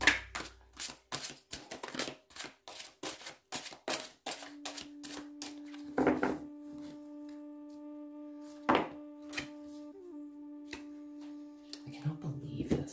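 Tarot cards shuffled and drawn by hand, a rapid run of crisp riffling clicks at first, then scattered single card snaps and thumps over a steady faint hum.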